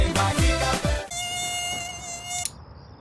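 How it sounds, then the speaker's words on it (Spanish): Mosquitoes whine with a high, thin buzz for a Raid insect repellent advert, heard after a short burst of music, the tone holding steadily and close before fading out. "¿Los mosquitos te están enloqueciendo?"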